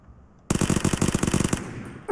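Automatic gunfire from a rifle in the battle-royale video game PUBG empties a magazine in one rapid, loud burst of about a second, the shots rattling close together before trailing off.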